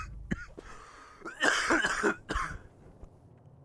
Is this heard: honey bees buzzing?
no